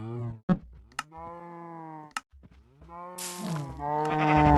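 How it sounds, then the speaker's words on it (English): Minecraft cows mooing, several drawn-out low moos in a row separated by brief clicks, loud and close with no talk. "I then killed some cows in my glory pen"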